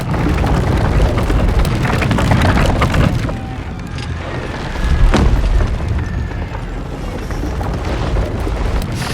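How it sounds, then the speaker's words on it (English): Heavy booming cannon fire during a raid on a gated stronghold in Baldur's Gate 3, loud rumbling blasts with a sharp crack midway over dense battle noise, alone with no talk. "Cannon!"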